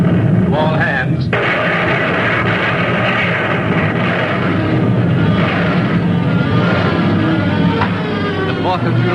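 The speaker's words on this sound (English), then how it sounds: "Our guns have really been speaking up" Naval guns firing in a wartime radio drama, a continuous loud roar of heavy gunfire and booming blasts filling the background, with a sharp report early on.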